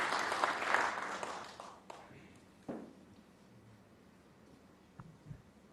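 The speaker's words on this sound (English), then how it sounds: "The applause there, Alan, warranted." Applause from a snooker crowd at the 2023 Champion of Champions, fairly loud at first, then fading into a quiet hall with a few scattered taps and small noises.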